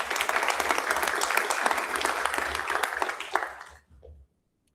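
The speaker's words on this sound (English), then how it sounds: "Let's give them a round of applause." A crowd at a board of education meeting applauds steadily for about four seconds, a dense wash of clapping that then stops abruptly, leaving silence.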